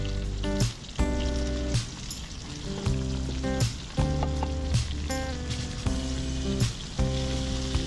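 Drumsticks (moringa pods) fry in hot oil for a prawn curry, giving a steady, loud sizzle with crackling pops and periodic bursts as the pieces are stirred, with no talking.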